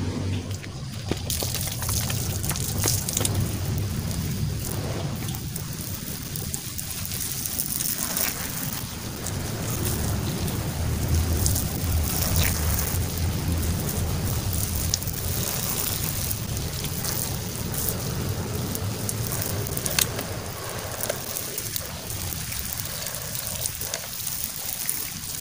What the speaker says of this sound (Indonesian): Nah, sekarang kita siram dulu sahabat ya.